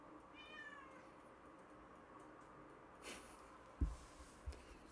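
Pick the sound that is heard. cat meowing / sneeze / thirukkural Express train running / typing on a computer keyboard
cat meowing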